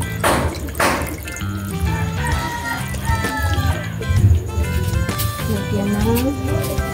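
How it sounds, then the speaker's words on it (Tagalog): Water poured into a frying pan while cooking, splashing and trickling in short bursts, with a voice talking over it and clattering kitchen sounds throughout. "At saka lagyan po ng tubig konting tubig"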